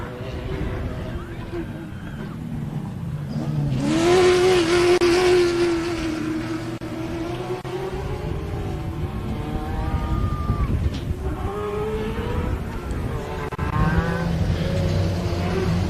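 Mini stock race trucks tearing around a short course, engines rising and falling in pitch as they pass, heard under continuous commentary from a voice.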